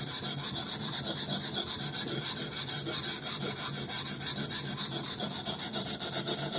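A Husqvarna hatchet edge is worked over a coarse Norton Crystalon oil stone. The steady, rhythmic rasping strokes repeat evenly and close up with no talk.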